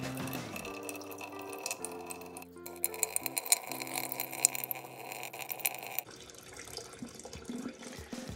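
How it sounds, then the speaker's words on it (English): Water runs and trickles into an aquarium tank, a steady splashing flow with small drips and clinks, the tone dropping as the level rises. "So it's slowly going to fill up the tank"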